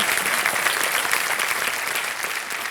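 Studio audience applause on the set of a televised quiz show, a thick, continuous wash of many hands clapping that fades slightly toward the end.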